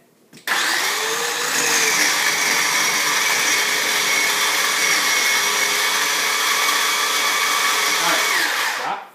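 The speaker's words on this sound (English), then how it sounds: "Robert, I want you to run that until it's like coarse oatmeal, okay?" A food processor whirs steadily for about eight seconds, chopping cold butter cubes into flour for a pie crust until the mix looks like coarse oatmeal, starting abruptly and cutting off at the end, loud and close with no talking.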